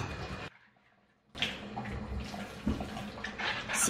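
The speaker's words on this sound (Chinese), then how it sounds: "买回来的梨子清洗干净" Fresh pears are washed in running water, a close splashing and trickling with a brief quiet gap before the water sound returns and continues.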